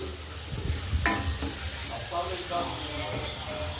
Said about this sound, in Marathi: आता मिक्स करून घेऊ आपल्याला आणि कमी गॅसवर याला छान आपल्याला तर फ्राय होऊन द्यायचं एकदम मस्तपैकी